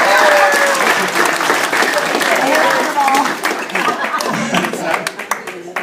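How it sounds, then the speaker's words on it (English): Loud, sustained applause from a wedding crowd for the bridesmaids, dense clapping that thins toward the end into scattered claps. "And also a round of applause for the bridesmaids."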